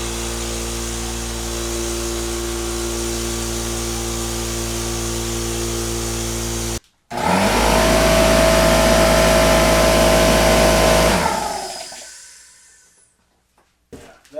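A VEVOR 6.3-gallon quiet air compressor is heard in a side-by-side sound test: a steady motor drone runs for several seconds and cuts off, then a louder rushing machine run follows and fades away.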